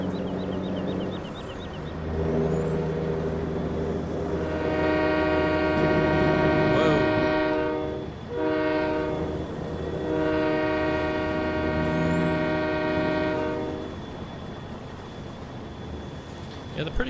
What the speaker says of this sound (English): the pretty cool thing about this map is these trains are so long